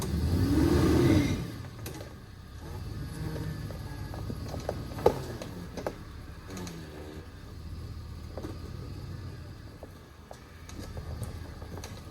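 A Chevrolet Suburban on a rocky Ozarks road, its engine revving steadily while the wheels spin, a mid-pitched drone lasting throughout with small knocks and clatters from stones.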